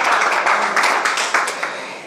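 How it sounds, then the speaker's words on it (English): An audience applauds Cristiano Ronaldo with dense, close clapping that swells briefly and then gradually fades. "another round of applause to our great player and star, Cristiano Ronaldo"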